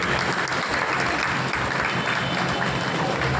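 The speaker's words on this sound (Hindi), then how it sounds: "जोरदार तालियां बजाइए।" Sustained, loud applause rises from a seated audience at an honor ceremony in Pilkhva while guests pay tribute to their parents. The clapping stays thick and even throughout, with no voices standing out.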